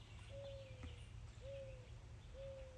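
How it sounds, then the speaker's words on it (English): An owl calling outdoors near a house: three soft, drawn-out hooting notes spaced evenly apart, faint and distant over a low steady rumble. "I think that's an owl."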